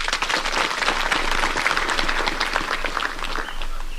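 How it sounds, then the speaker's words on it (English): An audience applauds a retiring commander at a ceremony, dense steady clapping from a crowd lasting the whole stretch at moderate loudness. "Please extend a round of applause to him."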